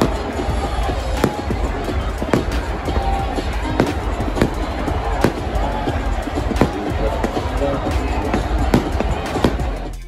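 Fireworks crackle and pop repeatedly at a Milwaukee Bucks victory celebration, sharp bursts scattered over a constant crowd roar, with voices mixed into the loud outdoor din.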